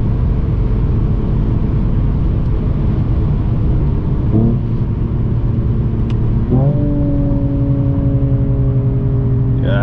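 A 2022 Mercedes-AMG CLS53 engine rumbles steadily and close, then its pitch climbs as it revs and accelerates, with a rising harmonic whine over a constant low roar.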